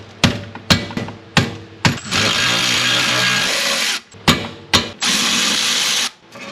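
Loud, close power-tool bursts, some short and sharp and some sustained whirring runs, as 17 mm bolts are removed from the brake caliper of a Honda S2000.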